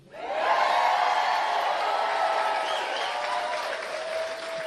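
A Harris-Walz campaign rally crowd applauds and cheers loudly. The sound swells quickly at the start, then holds as a broad, sustained roar with some whoops in it.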